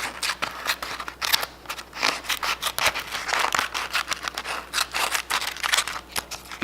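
Small scissors with a one-inch blade snip through a paper envelope in a rapid series of crisp, close cuts, with crinkling paper between strokes and no talk.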